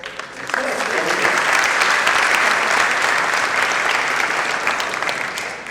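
A seminar audience gives sustained, steady applause for Jakarta deputy governor Basuki Tjahaja Purnama; dense, full-room clapping holds evenly for several seconds.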